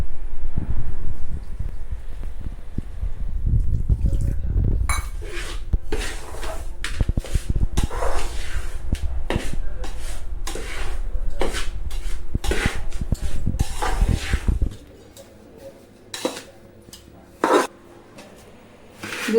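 A spoon scrapes and clinks against a metal vessel while milk is stirred into a semolina, sugar and cardamom powder mixture for laddoos, with repeated close rubbing strokes, then quieter with a few isolated taps.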